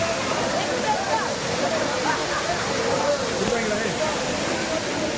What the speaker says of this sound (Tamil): இப்போ 5 அருவியை பார்க்குறோம்